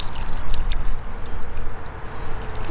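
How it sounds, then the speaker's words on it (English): Water gushes and gurgles from the open dead-end of a backyard garden drip irrigation line before it is capped, a close, fluctuating splashing rush heard on its own for a few seconds. "Got nice clear water flowing through,"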